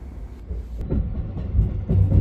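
Sunrise Seto sleeper train pulling out of Yokohama Station, a low steady rumble with faint rhythmic rail clatter building slightly as it moves off, heard from inside the carriage.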